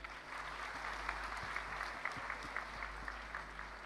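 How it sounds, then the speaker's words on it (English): Faint, steady applause from an audience at a conference stage event greets singers, a distant wash of clapping over a low hum. "A round of applause, please."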